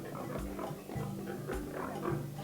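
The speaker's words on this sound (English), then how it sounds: "We have 3 breeds of pigs" Several pigs of mixed breeds, Camborough, Large White and Landrace, grunting and oinking together on a farm, a steady overlapping chorus of low grunts with no talk.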